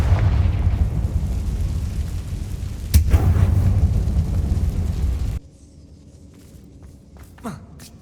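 A Confringo fire spell explodes in the game Hogwarts Legacy, a heavy rumbling boom with a sharp crack partway through, which then drops away to a quiet, faint tail.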